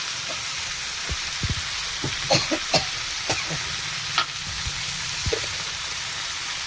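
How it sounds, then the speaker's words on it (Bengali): Ground turmeric, chili, coriander and cumin fry in hot oil with a steady close sizzle, broken by scattered scrapes and taps of a stirring spoon. "মশলাটাকে ভেজে নেবো"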